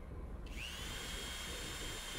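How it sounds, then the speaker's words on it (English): A surgical drill bores into a skull, a thin steady whine that rises in pitch and holds under a quiet room, ending with a louder burst. "The brain drilling's the worst part."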